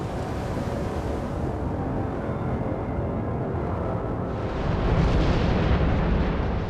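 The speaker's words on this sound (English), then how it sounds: "one of the greatest volcanic eruptions ever recorded laid waste to the Indonesian island of Krakatoa" The 1883 Krakatoa volcanic eruption on an Indonesian island, a deep continuous roaring rumble that swells louder partway through and holds steady, with no voices.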